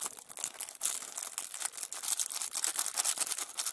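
A plastic bag of LEGO advent calendar parts crinkles and rustles continuously in bursts of close, crisp handling noise.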